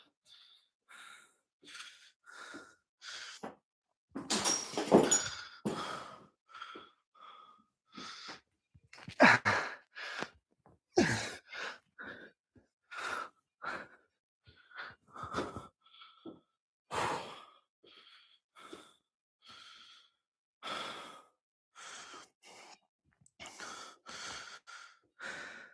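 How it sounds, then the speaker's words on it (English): Heavy, laboured breathing after a circus dumbbell and press workout: a long run of loud, close sighing exhales and gasping inhales in an irregular rhythm, with no talking. "so you just don't have to listen to heavy breathing"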